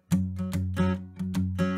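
Palm-muted acoustic guitar in DADGAD tuning, strummed with the palm resting on the strings near the bridge, playing a Dublin blues pattern: several punchy, clipped chord strokes in a steady rhythm, close and moderately loud with no voices.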